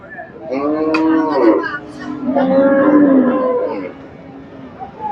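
Cattle at the Chandaikona cattle market give two long, loud, drawn-out moos close by, with faint crowd murmur behind.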